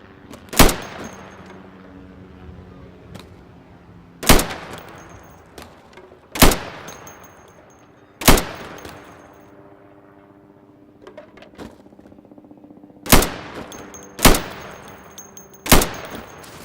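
Sidearm shots fired at pop-up targets in the video game Insurgency, seven or eight sharp, loud single reports spaced a couple of seconds apart, each with a short echoing tail over near silence.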